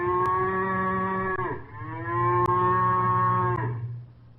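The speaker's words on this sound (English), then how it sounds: "that could be Paul Bunyan's Blue Ox Babe" An ox moos twice in long, drawn-out lowing calls, played as a sound effect in a radio quiz show, clear and steady with no voices over it.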